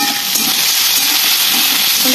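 Potatoes frying in oil in a wok send up a steady, loud broadband sizzle that holds evenly from start to finish, with no voices over it.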